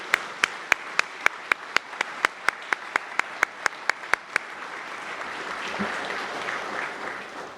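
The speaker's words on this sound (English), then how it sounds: "So if we could just give an incredible round of applause for them." An audience at a fire department training program graduation claps, opening with a few sharp, evenly spaced claps up close before the room swells into a broad, sustained round of applause.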